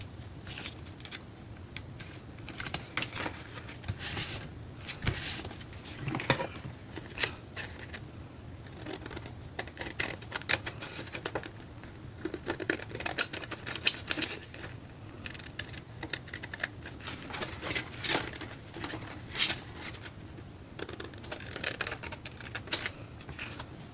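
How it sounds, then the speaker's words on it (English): A sewing machine stitches around a paper envelope with tags and journal cards, producing a fast, fairly quiet patter of needle strokes that runs continuously with small variations in speed. "while I'm sewing around the envelope"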